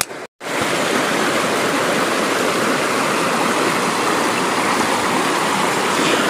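A river stream rushes steadily and loudly, close by, on a hike upstream while searching for gold-bearing quartz veins. The broadband roar continues without a break after a brief dropout at the start.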